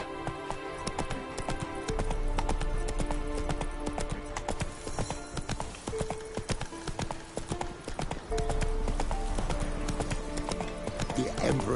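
Horse hooves clip-clop rapidly and steadily in The Witcher 3 game, a close, rhythmic galloping patter running throughout under a faint layer of music and ambient game sound.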